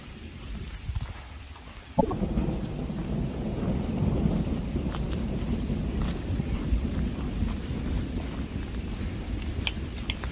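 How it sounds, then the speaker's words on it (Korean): Steady heavy rain pours throughout on a mountain trail, with a sharp thunderclap cracking near the start and a low rumble rolling on beneath the downpour. "비가 내립니다."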